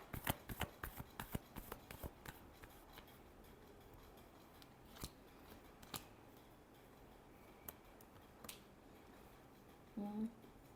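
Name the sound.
tarot cards being shuffled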